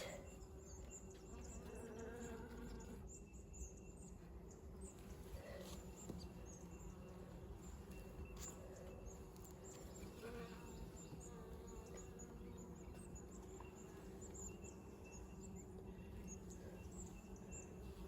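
Low, steady buzzing of many honeybees in a hive, a faint continuous drone with a soft background hum throughout.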